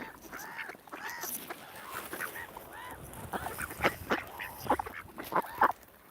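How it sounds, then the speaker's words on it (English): Large domestic ducks or geese beside mallards at Talkin Tarn, giving a run of honking, quacking calls that start sparse and grow louder and denser toward the end. "Your little mallards let you stroke them, as do these ones."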